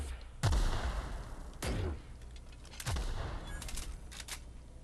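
Three loud, separate gunshots from a weapon in The Outer Worlds, each a sharp crack with a booming low tail, spaced about a second apart, with a quieter ambient bed between them.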